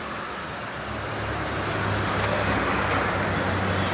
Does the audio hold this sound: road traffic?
yes